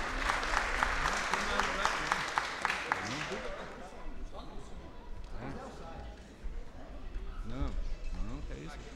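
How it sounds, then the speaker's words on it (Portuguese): A crowd at a Portuguese-speaking gathering claps for two companions, a brisk burst of applause that fades after a few seconds and gives way to people talking. "Salva de palmas aí por dois companheiros."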